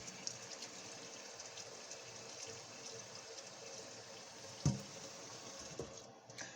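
Water draining from a cooking pan in a home kitchen while a ham dinner is prepared, a faint steady trickle and splash running throughout with a brief louder clunk partway through.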